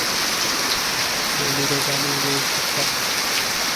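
Heavy rain pours down steadily over a village, a dense, constant hiss that fills the whole clip with no break.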